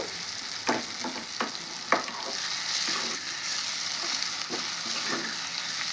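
Oil sizzles steadily in a pan as ingredients for a yogurt chutney fry, with scattered sharp crackles and pops standing out above the constant hiss; no one speaks.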